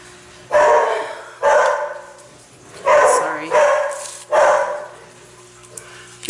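Several dogs bark in five loud, separate bursts about a second apart, close by, echoing in a home workshop while painters are working nearby.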